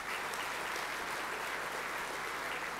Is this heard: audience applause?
yes